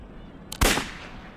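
A single sharp gunshot from a video game rings out once, loud and abrupt, with a short fading tail over a quiet background.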